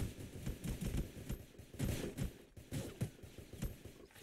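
Gunfire from a shotgun in a video game comes as a run of sharp, heavy blasts at an uneven rhythm, about eight shots close together.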